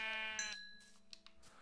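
Sheep in the Minecraft video game bleat in a short burst, a clear nasal tone that starts strong and fades, followed by a couple of faint clicks.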